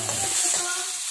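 Onion and garlic sauté in a pan with a close, continuous sizzle and faint stirring scrapes.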